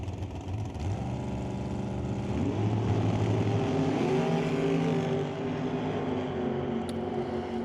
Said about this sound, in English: They're both off on the green, and Justin Bond for the win